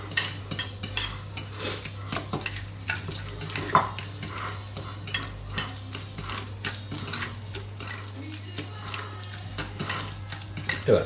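Crushed avocado and crab mixture being stirred in a bowl, with a steady run of soft scraping and clicking utensil strokes against the bowl, close up and without speech.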